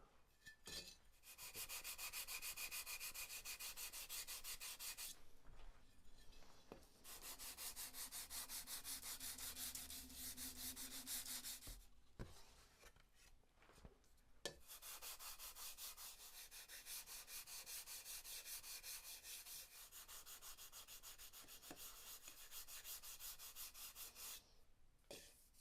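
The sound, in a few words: hand sanding wood with 220 grit sandpaper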